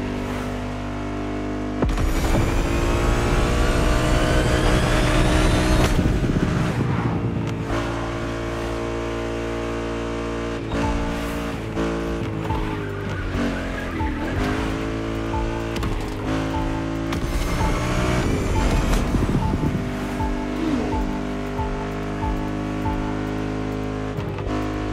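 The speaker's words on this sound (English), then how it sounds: "We've got our hands on the GT3 Cup, a model designed with track racing in mind." A Porsche 911 GT3 Cup race car engine in a racing video game revs hard and loud, climbing through gears with rising pitch sweeps, sharp shifts and drops, then sustained high-revving drone at close range.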